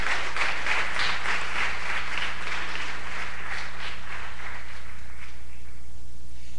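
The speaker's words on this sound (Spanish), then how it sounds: "Denle un aplauso al Rey bendito." A church congregation applauds steadily during a sermon on end-times signs, a dense, even wash of clapping that holds for several seconds and then fades slightly toward the end, with no voice on top.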